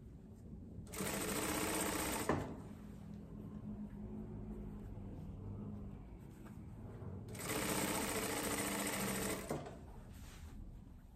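Sewing machine stitching a seam on a tailored jacket, running in two steady bursts of about a second and a half to two seconds each, separated by a quieter pause with faint handling noise.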